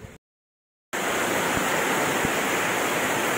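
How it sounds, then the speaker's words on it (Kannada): Heavy rain pours down in a steady, dense hiss of falling water near a street market in Kittur, with a few soft thuds. It starts abruptly after a brief silence and stays loud throughout, with no voices. "ಹೊಗಲೊಳಗೆ ಹಿಂಗೆ ಮಳೆ ಆಗೈತೆ"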